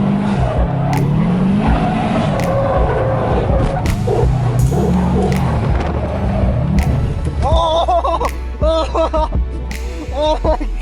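A Subaru WRX STi drifts at Apple Valley Speedway, its engine revving and tires squealing in rising and falling wails, with people talking and shouting over the car noise.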